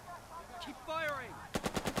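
Machine-gun fire in the Burden of Command wartime strategy game, a rapid burst of about five or six loud sharp shots closing the moment after a brief whistling, warbling game effect.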